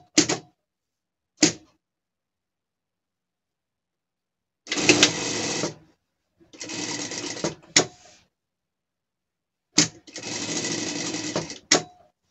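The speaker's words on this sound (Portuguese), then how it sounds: "Vamos juntar uma na outra e passar uma costura em tudo" A sewing machine stitches pieces of a gaucho-style pet outfit in several bursts: a few short taps, then longer runs of rapid mechanical whirring, loud and close with quiet pauses between.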